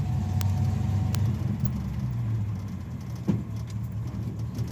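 An old beater car drives along with a low, rough engine rumble and road noise throughout, moderately quiet, with a couple of sharp clicks or rattles early on and a brief knock near the end.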